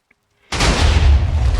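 A loud explosion in the Minecraft modpack Vault Hunters erupts suddenly after a moment of near silence, a dense, sustained boom with heavy low rumble that carries on to the end.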